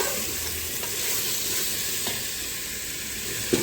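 Mutton with onions and spices sautéing in a pan, a steady close sizzle with occasional utensil scrapes and a sharper clink near the end.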